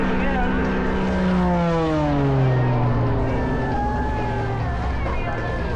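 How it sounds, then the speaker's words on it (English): An aerobatic airplane flies at an air show over English Bay Beach, its engine drone loud and sustained with a pitch that slides downward as it passes and rolls. "Again, look how crisp that airplane rolls."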